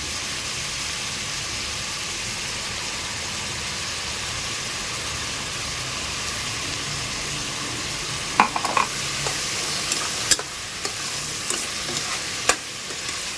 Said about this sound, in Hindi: देखिए ये अच्छे से भून रहा है